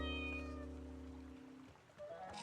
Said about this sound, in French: Oh non, trop mignon ce chat,